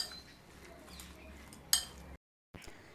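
Quiet scraping and stirring as fried soya chunks are mixed with roasted cumin powder, black pepper and black salt in a bowl, with one bright metallic clink of a spoon and a brief silent gap.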